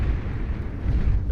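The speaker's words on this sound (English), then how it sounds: "Nice bombing" Bombs burst in the strategy game Beyond All Reason, giving a continuous, dense low rumble of overlapping explosions that stays loud and steady throughout.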